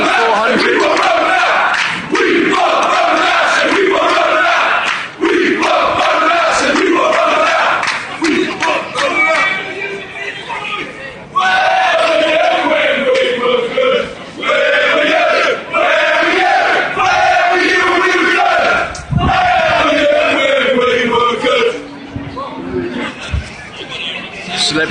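A loud protest crowd of football fans at Charlton chants in unison close by, rhythmic shouted phrases rising and falling with cheering and babble between chants.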